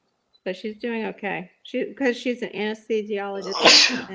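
Someone talks steadily, then a sharp, noisy sneeze bursts out near the end of her speech.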